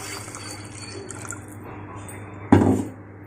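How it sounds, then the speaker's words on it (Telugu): Water splashes into a cooking pot of coriander tomato rasam over fried tempering and paste. A short, loud pour arrives near the end after a steady low hum of kitchen background. "ఒక 2 గ్లాసులు నీళ్ళు పోసుకోవాలి."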